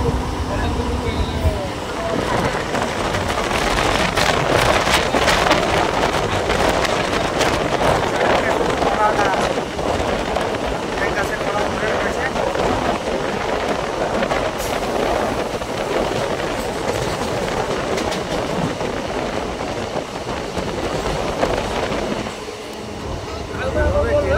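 A MEMU passenger train on the Naihati–Baharampur line rolls into Ranaghat Junction, giving a steady, loud rumble of wheels and carriages with wind buffeting the microphone throughout.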